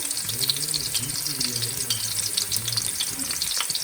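Onions frying and browning in a karahi for mutton karahi give a steady close sizzle with light stirring, under a voice talking.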